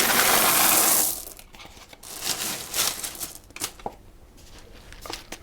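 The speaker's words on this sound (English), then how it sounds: "I'm going to fill that parchment paper with baking beans" Ceramic baking beans poured into a parchment-lined pastry case, a loud rattling rush at first, then scattered clicks and small settling clatters trailing off.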